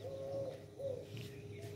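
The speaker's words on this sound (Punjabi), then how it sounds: "ਇਹ ਉਹ ਘੁੱਗੀ ਹੈ" A dove gives soft, low coos twice outdoors, faint against steady background noise with no talk.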